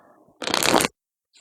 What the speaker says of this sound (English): I'm shuffling it like I do the other decks